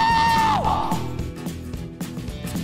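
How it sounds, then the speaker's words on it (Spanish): A man's loud yell with a sliding pitch that drops off after about half a second, followed by quieter mixed game sounds and muffled noise. "es el grito más varonil de la historia"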